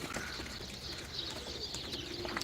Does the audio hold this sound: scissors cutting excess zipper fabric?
no